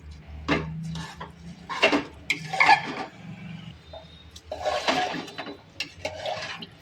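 A spoon stirs masala khichdi with water and salt inside a pressure cooker, producing scattered scraping and clinking knocks against the metal, soft and close with gaps between strokes.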